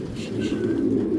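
Racing pigeons cooing close by in a low, steady throaty burble that fills the whole brief moment.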